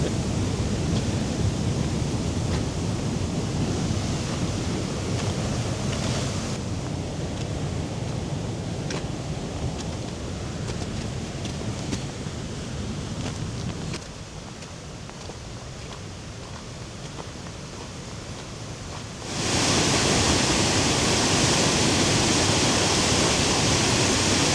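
A waterfall and river swollen with spring runoff on the North Shore roar as a loud, steady rush of water that shifts in level partway through.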